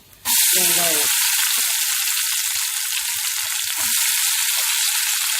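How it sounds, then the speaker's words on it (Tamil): A steady, loud sizzle of cinnamon, cardamom, black pepper and cumin tempering in hot coconut oil begins abruptly and carries on without a break, with a few faint clicks underneath. "பட்டை, ஏலக்காய், குருமிளகு, சீரகம் எல்லாம் போட்டு தாளிக்கலாம்"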